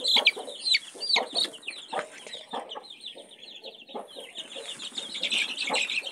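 Newborn chicks peep in high, rapid chirps over several seconds as they are handled one by one for their first eye-drop vaccine. The calls are close and busy, with no speech.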